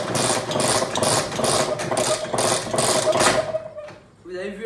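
A 50 cc motorbike engine is started with a string of rhythmic, pulsing turns that rise and fall for several seconds, then cut off, with a person's voice heard at the end.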